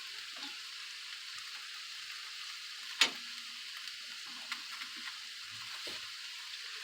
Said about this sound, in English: we'll get that bacon down there now. Let it fry a little more tasty.